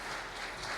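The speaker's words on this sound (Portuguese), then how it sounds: "vamos aplaudir ela muito bem" Congregation applauding during a Sunday evening church service, a brief, steady wash of clapping from many hands with no pause.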